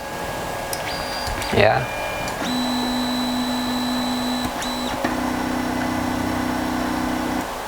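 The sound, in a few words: Rexyz A1 3D printer homing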